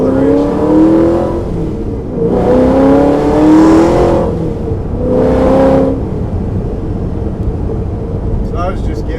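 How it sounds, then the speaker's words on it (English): A Ford GT with a supercharged 427 V8 and wide-open exhaust accelerates hard in two loud surging pulls heard from inside the cabin, the pitch climbing through each gear before dropping back, with a steady rumble between them. "You got a 427 sitting behind my head right now with a big blower on top of it and a wide open exhaust"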